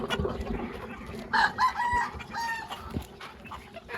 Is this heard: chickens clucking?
yes